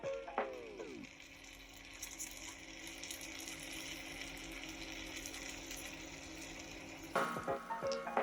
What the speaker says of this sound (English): you should get some nice sizzling action there